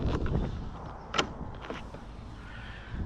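A motorhome door gives one brief, faint click as it latches back, a sharp isolated snap against a quiet background.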